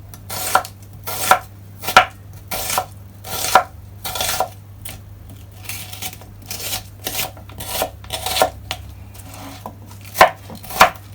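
Knife chopping half a white onion on a cutting board for pumpkin rice, steady rhythmic close-up strokes repeating about every half second over a low kitchen hum, no talking.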